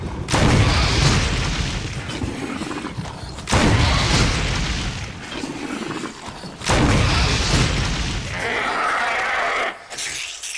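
Incendiary rounds are fired at a hunter in Resident Evil Remastered, three heavy booming blasts spaced a few seconds apart, each followed by a rumbling burning tail.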